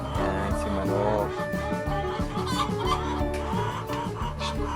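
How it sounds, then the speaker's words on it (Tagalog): Chickens clucking on a farm amid a busy, continuous mix of sound, with a voice briefly mixed in; the fowl calls stay fairly steady throughout. "Yan, si Manok."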